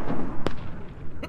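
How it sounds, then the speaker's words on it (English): Mortar shells burst in a Squad military game, two sharp booms about three-quarters of a second apart over dense, rumbling battlefield noise. "We're about to have mortars on that position."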